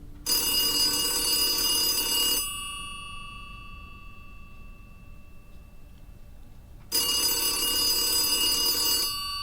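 An old 1980s-style telephone rings in a dark room, with two long bright metallic ring bursts separated by several seconds of fading hum, loud and close, alone without voices.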